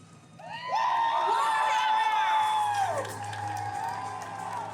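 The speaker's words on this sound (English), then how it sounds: "Give her a huge round of applause. Keep cheering." A large crowd at a cosplay contest at a comic convention cheers, whoops and applauds loudly and steadily, with high shouts rising over the clapping before it eases slightly and continues.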